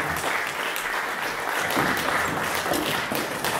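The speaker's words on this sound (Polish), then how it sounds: "Gorące brawa i podziękowania." Audience applause fills a Polish poetry competition hall after a reading, a steady wash of many hands clapping at even loudness throughout, with no voices over it.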